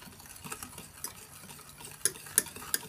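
Starch stirred into cold sweetened milk for homemade qishta, soft swishing of a spoon in liquid, then three crisp clinks of metal on the pot near the end.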